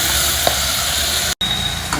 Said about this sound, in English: add in the chopped tomatoes also to it, and again fry everything well together till the tomatoes become